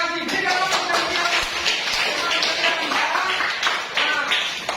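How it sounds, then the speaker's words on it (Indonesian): A class of students claps hands together in a classroom during an Islamic religious education lesson, a dense, steady patter of many hands that runs for about five seconds at moderate loudness. "Berikan tepuk tangan."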